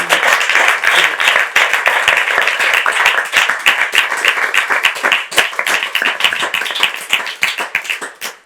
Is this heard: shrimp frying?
no